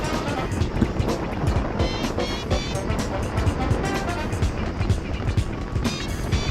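Go-kart engine at Qleasure Brighton Karting, loud and close as the kart races hard through the final corners, a steady rasping drone with wind rush and rapid pulsing throughout.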